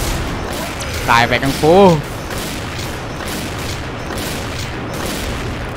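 Bazooka fire in the shooting game XSHOT, a few heavy booming blasts in quick succession, mixed with a short burst of speech and the game's steady background noise.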